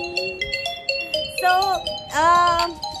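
A phone ringtone plays in short melodic bursts, loud and close, with tonal chimes repeating across the clip and no talking over it.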